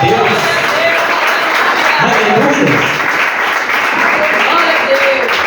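A church congregation claps together during an evangelical service, a dense, steady wash of applause mixed with voices and cheering throughout.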